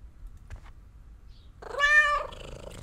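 A cat meows in the horror game The Kidnap by Chilla's Art, a single drawn-out, clearly pitched call rising and then fading after a quiet stretch with faint background noise.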